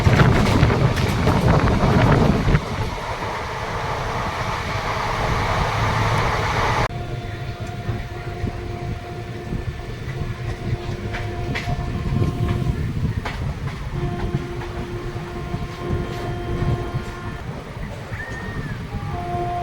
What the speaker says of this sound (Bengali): ট্রেন ধীরে ধীরে জয়চণ্ডী পাহাড় স্টেশন এন্টার করছে